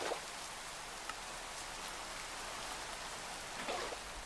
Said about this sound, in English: Now, the rain will fill these for us.